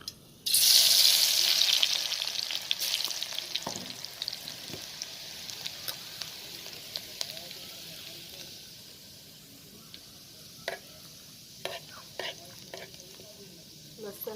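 Garlic hits hot oil in a village kitchen with a loud initial sizzle that gradually settles into steady frying crackle, punctuated by occasional spoon stirs and scrapes near the pan.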